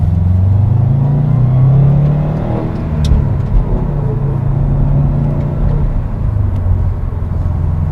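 A 2016 Subaru WRX STI on new wheels and sticky tires drives along a back road, with a steady loud engine rumble and tire roar that rises and eases slightly and a few faint ticks over it.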